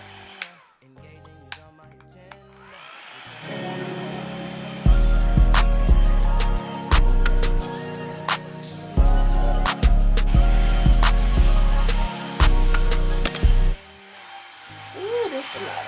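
A hair dryer on full heat blows steadily across natural hair in bursts of loud broadband whooshing, switching on and off several times, with a few small clicks and handling noises between passes.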